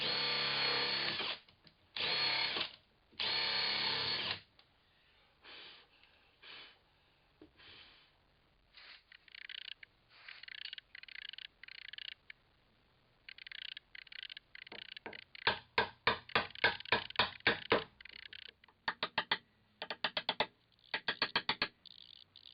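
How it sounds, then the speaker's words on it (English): A Forstner bit boring out mortise waste in chair-arm wood for a Morris chair, heard as repeated short bursts of drilling with pauses between, close and steady, some quick rhythmic runs near the end, no talk. "I'm just going down with a forstner bit to clear out most of the waste"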